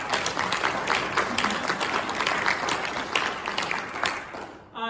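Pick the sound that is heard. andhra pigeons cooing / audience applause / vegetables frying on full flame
audience applause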